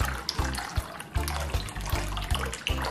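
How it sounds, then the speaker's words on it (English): Tap water runs steadily into a bowl of garri being soaked for Delta owoh soup. The splashing is close and continuous, with regular low knocks and no talking. "Just gonna add more water to it"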